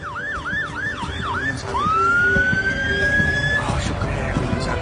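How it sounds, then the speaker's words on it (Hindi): An ambulance siren draws near, first a fast wailing yelp, then a long rising tone that holds steady, loud over faint background murmur. "शुक्र है एम्बुलेंस आ गई"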